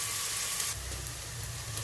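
Onions fry in a pan, browning, with a steady soft sizzle and crackle that carries on without a break. Nobody talks.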